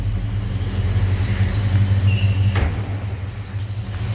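A 1971 Chevrolet Chevelle with a 350 Chevy V8 and automatic transmission runs steadily, a loud, close, low rumble holding even throughout with no voices over it.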